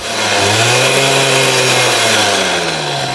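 A Puch Maxi moped engine, fitted with a welded one-piece exhaust with an 18 mm flame tube, revs high while standing still. It gives a loud, close, buzzing two-stroke drone that holds steady as the pitch shifts slightly.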